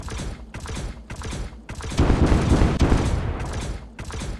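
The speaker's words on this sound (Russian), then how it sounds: "Это перезаряжается пушка!" An Incinerator cannon reloading in the War Robots video game gives off rapid rhythmic mechanical bursts, pulsing roughly every half second, then swelling into a dense, loud, roaring stretch before the pulses return.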